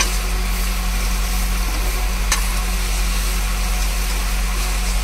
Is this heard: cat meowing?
no